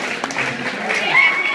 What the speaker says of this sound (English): I'm going to give everyone a round of applause for showing up.